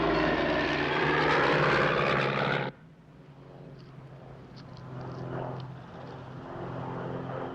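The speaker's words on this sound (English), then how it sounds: "It's definitely a light aircraft." A light aircraft flying overhead, a loud droning engine that cuts to a fainter, fluttering propeller hum for the remainder.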